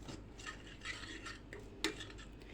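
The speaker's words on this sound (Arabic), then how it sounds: "وهبتدي اقلب كويس جدا" Spoon stirring a homemade face mask paste of whole wheat flour in a small bowl, with soft scraping and clinking strokes and one sharper tap near the end.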